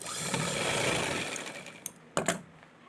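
Sewing machine double stitching a saree being made into a dress, a close, steady rattling whir for most of the clip that stops, followed by a few short clicks and thumps.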